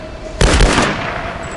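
A loud gunshot burst goes off in the 2013 Tomb Raider video game, one sharp report followed by a rattling, decaying tail with no talk over it.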